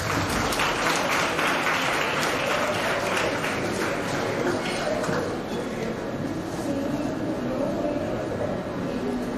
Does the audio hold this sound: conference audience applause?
yes